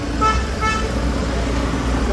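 Two short car horn toots sound early over a steady low rumble of road traffic arriving at a crowded temple parking area.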